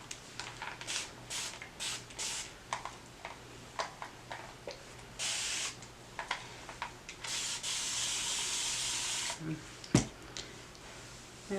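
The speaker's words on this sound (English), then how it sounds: "I'm gonna spray it with water now." Short bursts of hissing water spray from a spray bottle onto hair repeat at uneven intervals, with a longer spritz midway, close and fairly quiet, alongside soft rubbing sounds.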